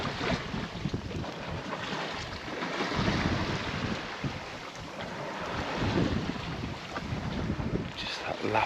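Gentle water lapping against a sailboat hull on a calm day at sea, soft irregular sloshes under steady wind noise, with no voices.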